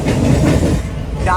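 A train at Sealdah railway station gives a loud, steady rumble that fills the whole stretch, with a faint rising squeal near the end.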